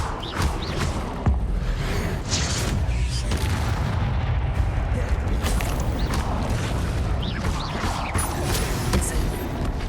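Fire spells cast over and over in Hogwarts Legacy, with whooshing bursts and booming impacts layered over a continuous rumbling game soundscape, loud and steady throughout.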